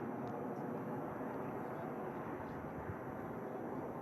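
Jet airliner taking off at Manchester Airport, a continuous loud roaring engine rush holding steady from start to finish, with no talk over it.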